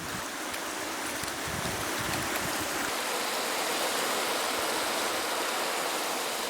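Steady rushing water at the source of a river in Sri Lanka's highlands, a dense continuous roar that stays close and even throughout with no voices.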